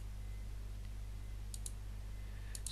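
A mouse clicks on the Windows 10 Start menu: two faint pairs of quick clicks over a low, steady electrical hum.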